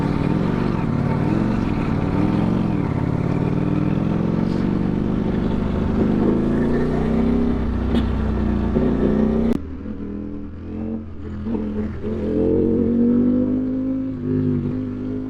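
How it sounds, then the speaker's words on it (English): Ducati Streetfighter V4 ridden on city streets, its engine a loud close rumble that rises and falls with throttle, holding strong before dropping sharply to a lower idle-like drone and building again. "Such a fun motorcycle in the city."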